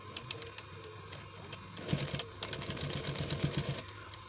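A sewing machine stitches black fabric, its steady mechanical whirr and rapid needle clatter running throughout, growing busier and louder in the second half with rhythmic pulsing bursts.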